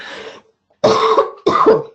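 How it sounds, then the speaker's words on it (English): Three coughs from one person, close and fairly loud: a rough first cough, a pause, then two harsher, fuller coughs in quick succession. "I'm just going to cough for a second."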